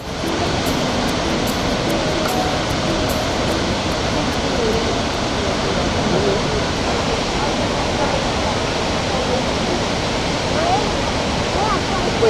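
The Pachal waterfall in Kalikot gives off a steady, unbroken roar of rushing water that holds level for the whole stretch, like dense broadband noise with no pauses.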